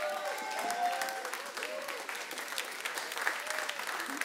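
Church congregation breaks into sustained applause, a steady crowd of clapping hands with voices calling out beneath it throughout.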